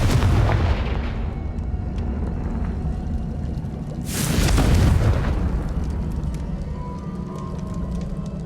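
A Confringo blasting spell explodes in Hogwarts Legacy with one loud, close, rumbling boom midway, following a fading blast at the start and leaving a lingering tail.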